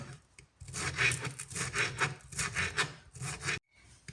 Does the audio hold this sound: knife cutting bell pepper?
yes